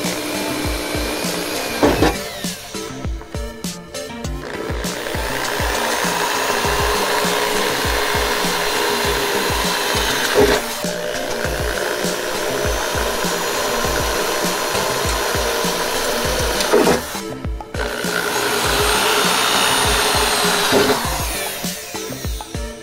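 A power drill with a larger bit enlarges holes through a template while installing a snorkel on a Chevy Tracker, a loud, continuous grinding whir broken by a few brief pauses, with no talking.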